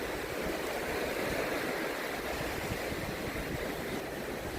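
Sea waves wash steadily against an abrasion-damaged coastline at Tanjung Baru, a continuous broadband rush of water with no distinct breaks, heard alone at a moderate, even level.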